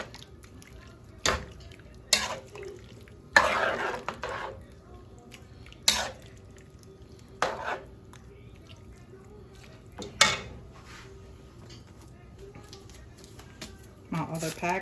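Intermittent clinks and scrapes of a spoon stirring meat filling for pasteles in a bowl, sharp spaced knocks with a wet shuffle between, under a nearby voice.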